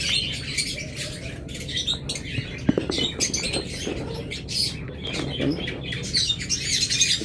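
A colony of budgerigars, kept for sale with eggs and chicks, squawks and chirps continuously at close range, a dense chatter of overlapping calls with occasional louder squawks.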